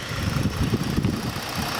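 The 3.5-liter engine of a 2013 Ford Taurus Police Interceptor idling close by, a steady, fairly loud low rumble with no one speaking.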